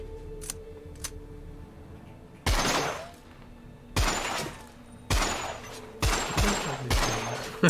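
Gunfire from a weapon in the Space Engineers VR demo: several loud, close bursts of rapid shots, each with a sharp onset and short decay, separated by quieter gaps with mechanical ticks and clicks.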